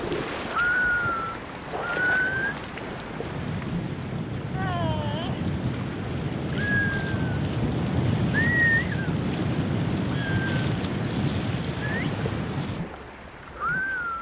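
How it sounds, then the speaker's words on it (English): Sharp, high whistling exhales from South Korean haenyeo sea-women divers surfacing ring out one after another at intervals over steady wind and sea noise, some nearer and louder than others. "When they come up, they blow out a whistle-like noise."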